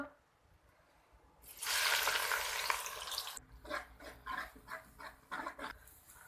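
A loud sizzle bursts up as onions drop into hot oil in a wok over a portable wood-burning stove, then settles into rhythmic stirring and scraping in the pan, close by.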